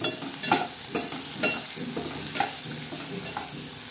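Upma being stirred in a pan, a steady sizzle broken by several scraping strokes of the spoon roughly every half second, close and alone with no voices.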